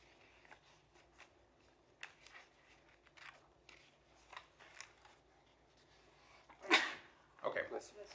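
A single brief sneeze cuts through a quiet conference meeting room, close and fairly sharp, followed by softer shuffling and a short second burst amid faint room noise.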